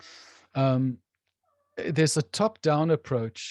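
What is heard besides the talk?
cat meowing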